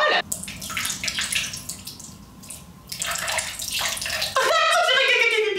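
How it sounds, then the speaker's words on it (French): A little water is poured into glue to make slime, giving a close, splashy rush of running water in uneven bursts that grows steadier toward the end. "Ensuite, il faut mettre un petit peu d'eau pour liquéfier un petit peu la colle."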